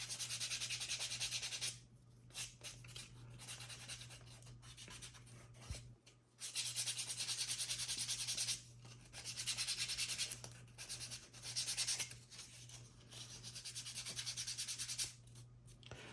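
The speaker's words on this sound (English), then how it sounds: "But you guys have seen me sand like 100 times" Sanding a leather cord keeper by hand, a steady close rasping rub in long continuous strokes with a few short pauses between passes, no voices.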